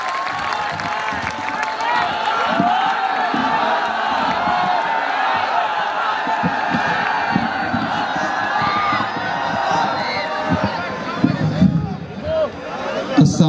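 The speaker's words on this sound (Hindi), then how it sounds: "तालियों की गूंज में इस्तकबाल।" A large audience at an outdoor mushaira poetry gathering in Barabanki, Uttar Pradesh, claps and cheers continuously, with whoops and crowd babble rising and falling over a loud sustained roar.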